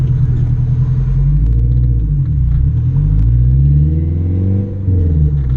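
A boosted Honda K20 engine in an Acura RSX idles with a deep, loud, close rumble, its pitch wavering and rising slightly as the revs shift, steady throughout with no talk.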